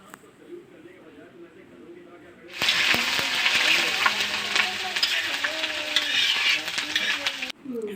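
Khichuri for Manasa puja hits a hot pot with a sudden loud sizzle, settling into steady frying hiss and stirring clatter for several seconds before it cuts off.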